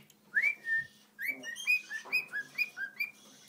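A cockatiel whistles a rapid run of clear, rising chirpy notes from inside a snack bag, one short phrase and then about eight quick repeated whistles, close and distinct with no speech.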